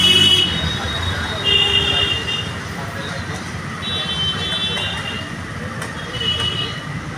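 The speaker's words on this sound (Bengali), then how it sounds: "আবার টোটো" Electric rickshaws (totos) roll past on a busy town road, a steady traffic rumble with repeated high electronic beeping horns, while someone talks over the street noise.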